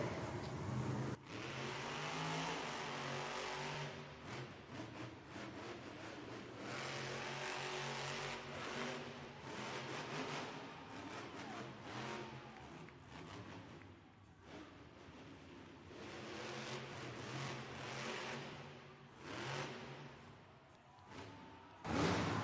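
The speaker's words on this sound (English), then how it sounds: "Sending that Monster Jam truck in through the arena, landing on those front two BKT tires." A Monster Jam monster truck's engine roars and revs in an arena, loud and continuous with repeated throttle surges and rising, falling pitch, against a noisy crowd.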